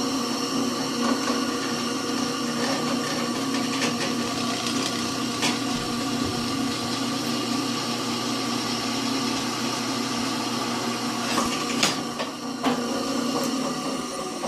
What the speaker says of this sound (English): I'm drilling these one size over 5/16